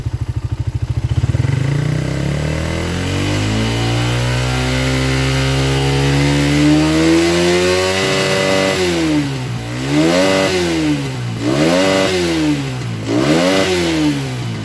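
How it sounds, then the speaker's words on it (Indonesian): A motorcycle with a stock PE carburetor being tuned, its engine running loud and close: a rising rev that holds steady, then five or six rhythmic throttle blips up and down. "Kita coba kita pelintir gas pelan-pelan."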